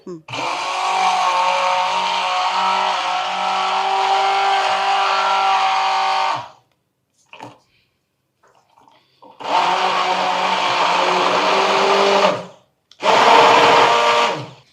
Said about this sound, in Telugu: ఇప్పుడు దీన్ని మనం బ్లెండ్ చేసుకుంటాం